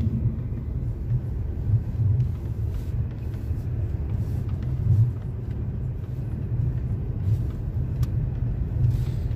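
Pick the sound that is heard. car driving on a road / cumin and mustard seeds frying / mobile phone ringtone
car driving on a road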